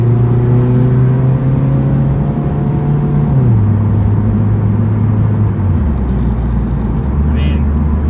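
A Nissan 240SX engine hums steadily as the car cruises on a paved road, its pitch dropping in steps as it shifts gears, with a constant low road rumble underneath.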